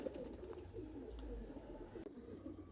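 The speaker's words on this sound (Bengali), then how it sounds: "কত সুন্দর একটা খাকি কবুতর" A male khaki pigeon coos softly nearby in low, rolling repeated calls, faint and quiet with no talking.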